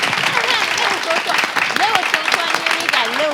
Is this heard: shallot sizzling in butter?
no